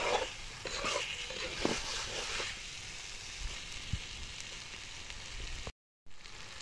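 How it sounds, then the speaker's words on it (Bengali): Water is poured into a sizzling curry of boiled potato, tomato, ginger, garlic and chilli, bringing a burst of crackling, bubbling hiss that eases into a softer, steady simmering sizzle, with a brief cut near the end. "এই যে বন্ধুরা এখন ঝোল দিয়ে দিচ্ছি, ঝোল মানে জল দিয়ে দিচ্ছি"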